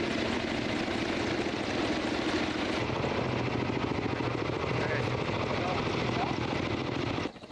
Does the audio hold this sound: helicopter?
yes